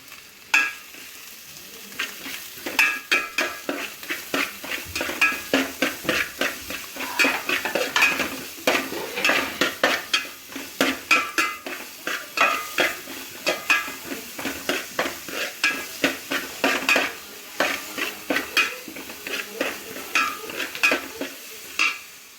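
Crab curry masala is stirred and sautéed in a pan Kerala style, with repeated close scraping and clinking of a spoon against metal in a quick, uneven rhythm over a soft sizzle.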